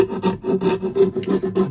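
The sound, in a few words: rasp filing wood of archtop guitar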